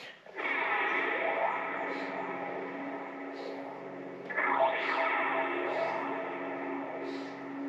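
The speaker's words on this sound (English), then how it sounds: "A lot of phaser, a lot of chorus. That's what this sounds like." Sustained electric guitar chords drenched in swirling phaser and chorus effects, shimmering and sweeping, with a fresh strum partway through.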